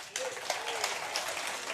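Warm crowd clapping from a live studio audience at a Farm and Fun Time radio show, a steady, dense wash of many hands throughout, with a voice speaking over it.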